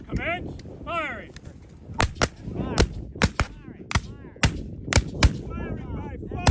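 Musket volleys at a Civil War encampment shooting demonstration ring out as a ragged series of sharp, loud cracks, about a dozen shots firing at will with uneven spacing and echoing tails, commands shouted between them.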